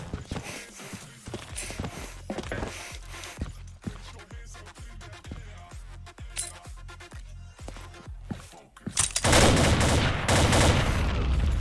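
Rapid gunfire from a search-and-destroy video game match, a steady run of sharp near shots in quick rhythm, followed by a louder, denser burst of noisy firing toward the end.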